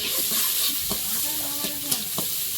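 Chopped onion fries in oil in a wok with a steady broadband sizzle, broken by a few scraping stir strokes, close and moderately loud, with a faint voice briefly in the background.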